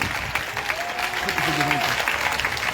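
A church congregation applauds steadily during worship, a dense continuous clatter of clapping, while a voice carries a sustained sung or chanted note over it.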